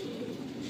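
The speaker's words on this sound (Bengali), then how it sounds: "এই এক জোড়া ফুলসিরা পায়রা, বাঁ হাতে আছে মাদি আর ডান হাতে নর" A Fulshira pigeon pair, male and female, with one bird giving a brief low coo up close, soft and alone.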